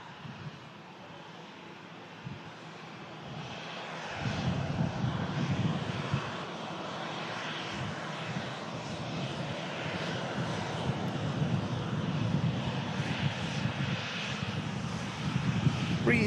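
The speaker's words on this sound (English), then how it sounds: "Now lined up, we have the Ryanair 737" Ryanair Boeing 737 jet lined up for takeoff at Manchester Airport, steady distant engine roar that swells and grows louder as power builds, continuing to the end.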